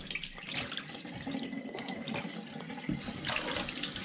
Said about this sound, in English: Just start running some cold water through it.